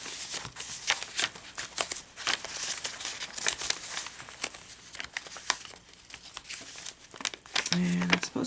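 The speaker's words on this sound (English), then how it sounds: "Paper bag." Paper bag crinkling and rustling while a handmade journal is handled, close and fairly loud with irregular crackles and tearing-like scrunches throughout.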